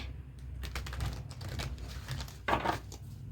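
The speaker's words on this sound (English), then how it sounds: "Let me shuffle the tarot and find out how this is translating in your life." Tarot cards being shuffled by hand, a quick run of soft riffling and crisp card flicks close to the mic, with a brighter burst of shuffling near the end, no talking.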